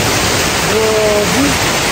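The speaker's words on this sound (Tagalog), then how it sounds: "Ang ganda ng pagkahulog ng tubig o." Aw Asen Falls in Ilocos Sur rushes as a loud, continuous broadband roar of falling water, close by and unchanging, while someone briefly speaks over it.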